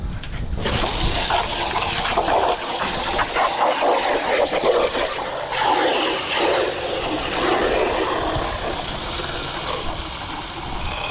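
Water flushed through a clogged, debris-filled rain gutter rushes and gurgles steadily and loudly throughout, with a clattering mechanical rattle mixed in.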